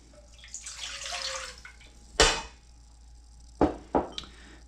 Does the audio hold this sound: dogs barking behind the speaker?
no